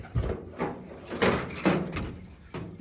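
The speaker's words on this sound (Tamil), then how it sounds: "இப்போ தான் காலை டைமே நான் கதவை திறக்கிறேன்" A farm shed door where cows are kept is opened in the morning, giving a series of knocks, scrapes and rattles spread across a few seconds, nearby and moderately loud, with no talk.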